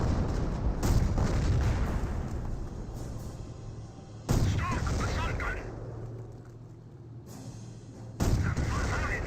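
Booming artillery impacts from a Firestorm strike in Company of Heroes, three heavy blasts spaced a few seconds apart with rumbling decay between them, under a commentator's talk.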